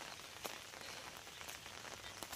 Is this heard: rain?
yes